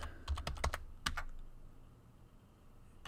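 Mac computer keyboard being typed on to enter VPN login details, a quick burst of close key clicks followed by a single tap and then near silence.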